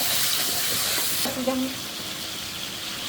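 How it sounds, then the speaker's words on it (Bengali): Onions frying in a pan until browned: a steady close sizzle and hiss fills the clip, with a brief stirring scrape and clink near the middle and the frying continuing evenly afterward. "আমি পেঁয়াজটা লাল করে ভেজে নিচ্ছি"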